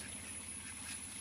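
A duck quacks in a short series of rhythmic calls at moderate distance, faint under a steady background hiss and a high electronic whine.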